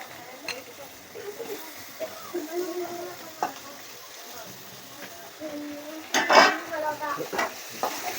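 Spices are tempered in oil in a clam curry. Light sizzling and utensil clinks sit under a person talking, with a brief louder spluttering burst near the end.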